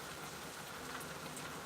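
Heavy rain pours down steadily outdoors, a dense, even hiss of drops hitting surfaces with no pauses, fairly faint and continuous throughout.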